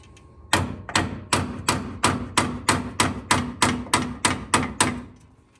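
Steady hammer blows knock out a steering bellcrank part on a 1947 Willys CJ2A Jeep: about thirteen sharp metallic strikes in an even rhythm, loud and close, each ringing briefly before the next, with no talking.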